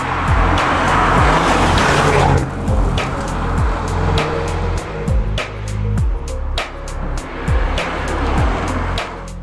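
An Audi S3 accelerates hard on the road, its engine loud and close with repeated gear-shift surges and brief drops in pitch across several seconds, with no talking.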